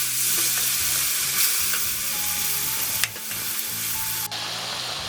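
Chickpeas and chilies fry in a pan with a loud, even sizzle throughout, broken by a sharp clack of a spoon or pan and a sudden drop partway through.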